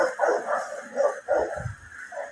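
Dogs bark outdoors at a distance, several short yips and barks in uneven bursts, moderately loud with no talk over them.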